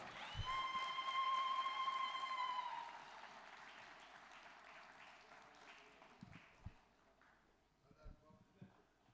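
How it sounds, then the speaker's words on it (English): Audience applause at an MOU signing ceremony during an African adaptation leaders' dialogue, a moderate wash of clapping for about three seconds that fades out, followed by quieter room sounds and a few scattered knocks. "A round of applause."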